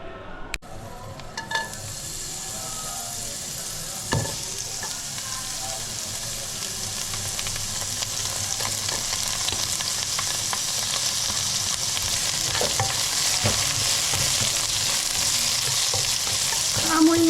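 Garlic and onion fry in a pan with a steady, close sizzle that grows gradually louder, with a few soft clinks of stirring near the start.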